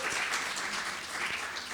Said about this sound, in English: can we give a final applause for the panel?